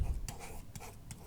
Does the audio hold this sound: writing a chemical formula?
yes